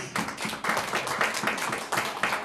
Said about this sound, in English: So once again, clap our TV stars.